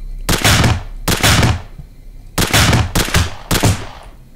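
Several loud bursts of automatic gunfire ring out in a video game, each volley lasting about half a second, with five separate bursts spread over roughly four seconds and short pauses between them.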